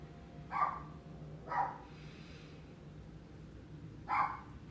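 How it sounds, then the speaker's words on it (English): A small Chihuahua gives three sharp yapping barks, two close together and one after a short pause, fairly near against a quiet indoor background. "Sorry about my dog. He's a Chihuahua."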